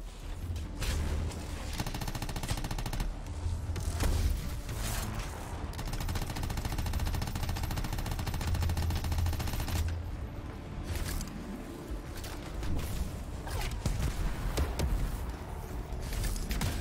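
Repeated sharp shots and booming blasts from snipers in the Anthem action game, sustained over a long stretch amid a busy clatter of combat effects.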